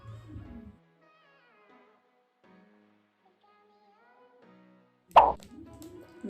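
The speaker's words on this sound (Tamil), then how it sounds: "ஒரு ஸ்பூன் எடுத்து ஊற்றிட்டு இருக்கான்." Cake batter is poured into a container with a spoon, landing as a single soft, wet plop after a long quiet stretch. Faint background sounds follow.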